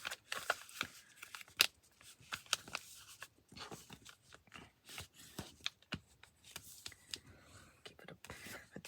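Paper is creased and folded into diagonal pockets, giving a close run of crisp rustles, taps and sharp crinkles in an irregular rhythm, with faint sounds of handling between.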